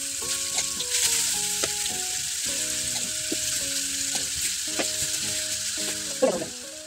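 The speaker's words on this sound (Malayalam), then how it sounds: "പിന്നെ ഓരോന്നിട്ട് വറുത്തെടുക്കാം." Fish pieces frying in oil in a pan for Kerala-style fish pickle produce a steady, bubbling sizzle with occasional stirring knocks. Faint melodic music plays underneath throughout.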